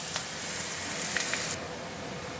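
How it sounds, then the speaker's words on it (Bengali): Onions dropped into hot oil in a pan already used for frying fish and cumin give off a steady, loud sizzling hiss that holds throughout, with no talking. "এবার পেঁয়াজ দিয়ে দিলাম।"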